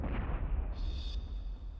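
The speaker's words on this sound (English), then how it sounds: "the warhead detonates" Bunker-busting missile warhead detonating, a loud, dense rumbling blast that rolls on steadily with a thin high tone partway through.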